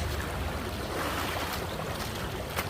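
A strong river current runs over white stones below the hills at Sada Pathar, giving a close, steady rush of water with broadband wind-like roar and no voices.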